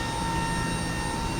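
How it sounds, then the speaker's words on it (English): A steady, droning whine of an Airbus yellow electric hydraulic pump in Microsoft Flight Simulator, a constant mechanical hum with a faint high tone, continuous and even throughout. "that's the yellow electric pump that basically just provides the yellow hydraulic system"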